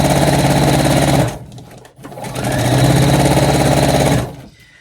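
A sewing machine stitches a long inseam on pyjama trousers, running in two loud, fast, rhythmic bursts separated by a short pause, then stopping.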